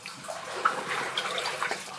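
Water splashes and trickles onto a surface somewhere ahead in a deep timbered underground passage, a faint continuous watery wash with small drip-like accents, distant and hollow.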